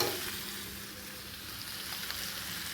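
Egg kosha, a spiced egg curry, frying in a pan, giving a soft, steady sizzle heard up close and fairly quiet, unbroken across the whole stretch.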